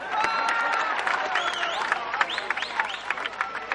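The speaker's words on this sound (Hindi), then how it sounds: "ठोको ताली" A crowd at an outdoor political public meeting with Navjot Sidhu claps and cheers, a dense, loud burst of applause with shrill whistles rising through it, then thinning into scattered claps.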